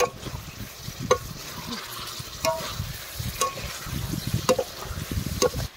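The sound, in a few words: eggplants being sautéed and stirred in spiced curry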